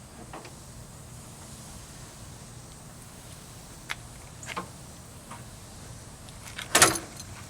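A Jeep YJ soft upper half door being fitted: faint scattered clicks and taps over a quiet background, ending in a sharper, louder rattling clatter near the end.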